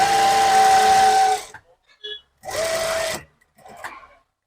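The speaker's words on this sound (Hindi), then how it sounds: "इस तरीके से यहाँ पे सिलाई लगाएंगे।" A sewing machine stitches the hem of a dhoti salwar in two loud, steady whirring bursts of about a second each, separated by brief pauses with soft handling noises of the fabric.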